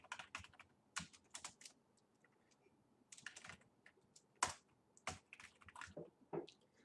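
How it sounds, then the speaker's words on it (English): Close, quiet typing on a computer keyboard comes in irregular bursts of clicks with short pauses between, alone in a hushed room. "So let me just type it first."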